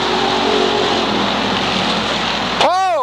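Pure stock race cars roar around the Waterford Speedbowl track, a dense loud engine din from several cars at once, ending in a sharp swooshing pass near the close.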